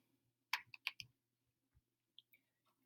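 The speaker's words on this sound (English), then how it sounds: "I'm ready to type this in my calculator." Fingers press keys on a calculator keypad, giving a quick cluster of small, close, crisp clicks followed by a couple of isolated taps in a quiet room.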